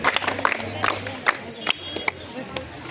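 A group of children claps in welcome at a voter-awareness event, with sharp, uneven bursts of clapping mixed with crowd noise, shouts and a low hum.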